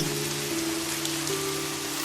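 Steady, dense rain pours down, a continuous hiss of drops hitting surfaces with a faint low hum beneath, no voices.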